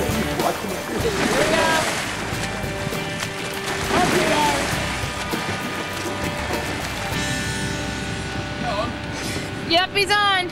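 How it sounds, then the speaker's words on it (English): Rough open sea with wind rising and waves cresting over six feet during a long-distance open water swim, with loud continuous surging water and wind, voices talking throughout, and a burst of higher chatter near the end. "the wind was picking up, and now the waves were cresting at over 6 feet"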